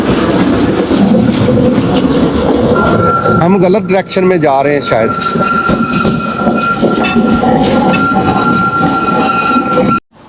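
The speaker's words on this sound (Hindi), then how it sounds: "अभी ये ट्राम जा रही है यहाँ से" A tram rolls past on a street in Belgrade, a loud close rumble with squealing wheels and a sustained whine. A voice talks over it briefly before the sound cuts off abruptly.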